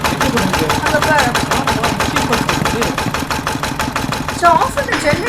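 A generator engine running in the Granny video game, a steady fast mechanical chugging with even rapid pulses, loud and close, with voices briefly talking over it.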